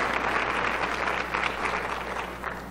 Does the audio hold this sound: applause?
yes